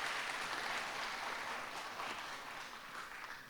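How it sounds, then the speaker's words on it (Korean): Audience applause at an indie game festival conference in Busan, a dense, steady wash of clapping that gradually fades over a few seconds. "뜨거운 박수 다시 한번 부탁드리겠습니다"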